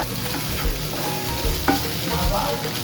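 Soya chunks frying with crushed garlic and ginger in a pan, a loud, close, continuous sizzle broken by a few scraping stirs, with no talking.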